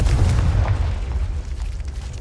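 Bombarda and Confringo spells bursting in the wizarding game Hogwarts Legacy, a heavy low boom that hits at once and rumbles away over about two seconds, loud and close.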